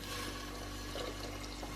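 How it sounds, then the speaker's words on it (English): Vegetable stock made with boiling kettle water pours steadily into a pot of minestrone soup, a continuous soft splashing and trickling stream heard close up. "Now we're adding in this liquid."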